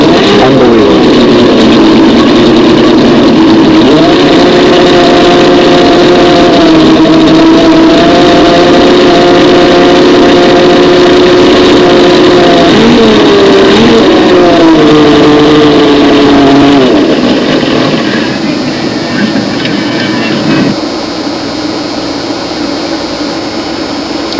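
A model aircraft engine, a Windy Tigercat contest plane, runs steadily and loudly for about seventeen seconds with slight pitch wavers, then its tone drops and thins toward the end.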